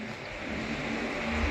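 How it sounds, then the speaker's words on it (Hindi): A Bandikui–Bareilly passenger train gathering speed, heard as a steady, dense rumble and roar of running gear with a low hum, fairly constant and close, with no talk over it. "अपनी ट्रेन ने तो रफ्तार पकड़ ली है"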